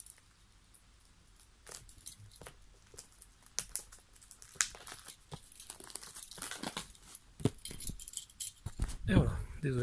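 A box cutter opens a Steins Gate Elite limited edition package indoors, with close, quiet plastic crinkling, sharp tearing and scattered clicks that grow busier and louder toward the end.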